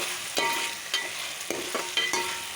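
Garlic and ginger roasting in a pan for country chicken curry hiss softly while a spoon scrapes through them in repeated, evenly spaced stirring strokes, close and fairly quiet.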